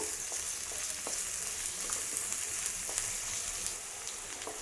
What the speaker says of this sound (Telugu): మీడియం ఫ్లేమ్లో పెట్టుకొని వేయించుకోండి.